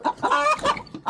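A hen clucks loudly and excitedly right after laying an egg, a rapid run of close, repeated squawking cackles with short pauses between bursts.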